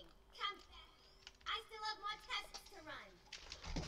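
Computer keyboard keys tapped in quick bursts by a player of the horror game Dark Deception, soft clicks and clatter close up under excited talking and exclamations.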